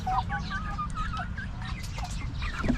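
A flock of backyard chickens clucks and squawks near at hand, with bursts of overlapping calls, a louder squawk near the end, and a steady low background hum.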